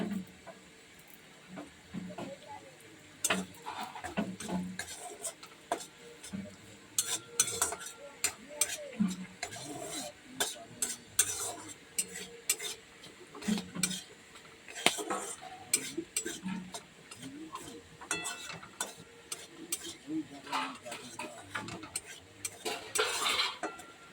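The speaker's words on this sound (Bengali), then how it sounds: "আমরা বেশ ভালো করে নেড়েছে লাল লাল করে ভেজে নেবো।" Spices with a bay leaf sizzle quietly in a pan while a metal spoon scrapes and clinks repeatedly, stirring in an irregular rhythm.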